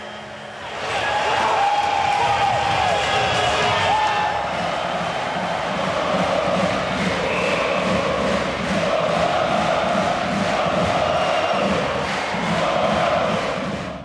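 Hockey crowd roars after Spartak's late goal at a junior match, a loud sustained wall of cheering and shouting that swells in after a second and holds for the rest of the stretch, with no clear speech.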